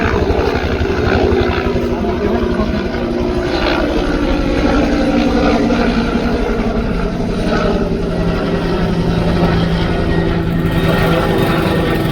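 A helicopter flying over a river, its loud rotor chop and engine drone held steady and close for the whole stretch, with faint background voices under it.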